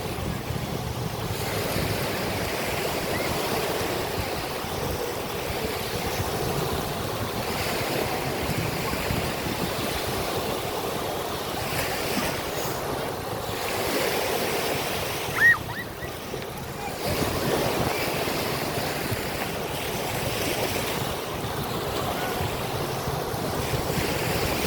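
Ocean surf rolls steadily onto Fort Myers Beach, Florida, a continuous wash of breaking waves mixed with gusty wind buffeting the microphone, with one brief louder knock partway through.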